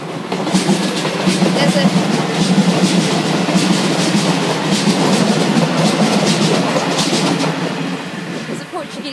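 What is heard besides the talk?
train passing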